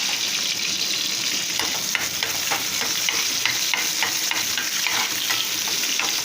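Onions frying in a pan with a steady broadband sizzle, punctuated by repeated scraping taps of a utensil stirring them, continuous and fairly close throughout with no talking.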